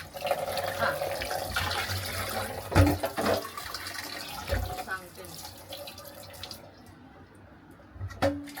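A kitchen tap runs continuously while vegetables are washed, water splashing and clattering in the sink with occasional knocks, then the flow stops near the end.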